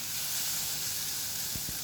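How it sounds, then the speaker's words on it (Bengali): Food frying slowly in a kadai over low heat gives a soft, steady sizzle and hiss throughout, with two faint low thumps near the end. "ভাজাটা কিন্তু আস্তে আস্তে হচ্ছে, নরম হয়ে যাচ্ছে পরপরই"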